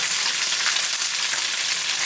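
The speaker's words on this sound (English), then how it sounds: "I'm stirring the tofu, the radish, and the dried shrimp, and letting the egg cook." Egg, tofu, radish and dried shrimp sizzle together in a pan while being stirred for shrimp pad thai, a steady, dense close-up frying hiss that holds unbroken and loud throughout with no talking.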